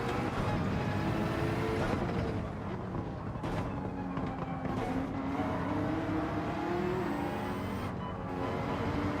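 Race car engines roaring in a Gran Turismo 7 race, a Porsche among the pack, with layered revving and pitch sweeps as cars pass and shift, steady and dense throughout, fairly quiet overall.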